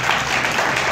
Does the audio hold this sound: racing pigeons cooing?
no